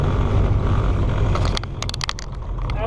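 An old Peterbilt truck fitted with a Kenworth sleeper rolls past on US 287 in Texas, a loud broad engine and road roar that drops away partway through, leaving quieter traffic hiss.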